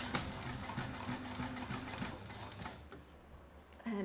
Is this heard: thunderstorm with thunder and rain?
no